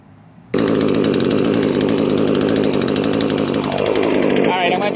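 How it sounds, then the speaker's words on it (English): A gas chainsaw kicks in after a half-second and roars loud and close for the rest of the clip, revving steadily as it cuts into a big tree stump, with the pitch dipping slightly under load. "I think we might even try cutting another chunk off here."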